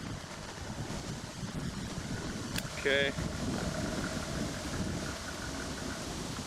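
Steady wind rushes and buffets the microphone outdoors, a continuous low roar, with a brief spoken word partway through.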